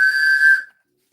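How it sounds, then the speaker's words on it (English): A train whistle blown live during a storytelling game gives one shrill, sustained blast that cuts off abruptly into silence, loud and close. "The train whistle"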